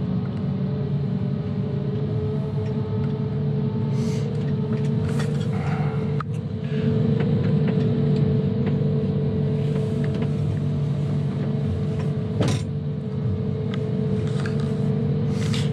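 A John Deere 1010G forwarder driving, its engine a steady low rumbling drone heard from inside the cab, with occasional clunks and rattles over the constant hum.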